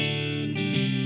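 Brief dry electric guitar chords through a Blackstar St. James 6L6 amp and the second Cab Rig cabinet. Two sustained strums sit close and full, with no voice over them.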